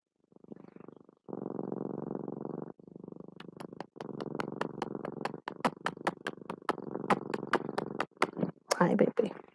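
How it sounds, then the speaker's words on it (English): A Siamese cat purrs close up in steady rhythmic bursts, broken by short pauses and a few sharp clicks, with a quiet voice briefly heard near the end. "I hear the Siamese purr, yes."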